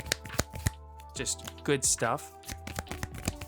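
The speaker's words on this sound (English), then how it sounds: "You can get that awesome hand shuffle feel." Cards in Dragon Shield sleeves are hand shuffled close up, giving quick riffling bursts and crisp slaps, while someone talks over and between them.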